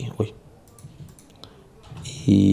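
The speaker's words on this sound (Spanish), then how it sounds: "vamos a hacer clic aquí igual y vamos a hacer clic aquí" Computer mouse clicks while working in an Excel spreadsheet, a few sharp close clicks spaced apart, ending in a louder burst of noise.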